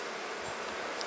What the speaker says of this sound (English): there's a lot of bees, so it's a great hive to keep alive